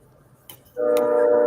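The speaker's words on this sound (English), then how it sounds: "Gino's love train is coming." A train horn sounds from nothing, a loud steady chord held without a break after a few faint ticks and a brief click, quite close.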